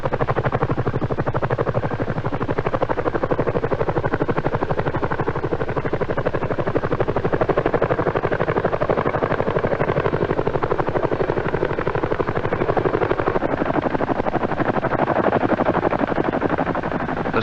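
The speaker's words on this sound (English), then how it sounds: "before the Chinook is brought into the area, be sure to put in your earplugs" A CH-47 Chinook helicopter arrives to airlift a Chaparral air defense system, its rotor and engine roar loud, dense and unbroken for the whole stretch, with no voices over it.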